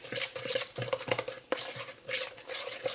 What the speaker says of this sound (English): And all that's left to do is give it a mix